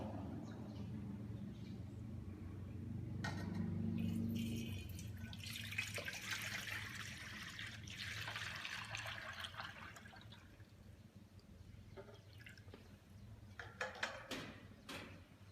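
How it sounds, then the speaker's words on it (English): Water poured from a basin during a hair-washing procedure for a patient, a broad splashing wash of sound that swells for several seconds and then tapers into lighter trickles and drips, with faint room noise underneath. "pour water."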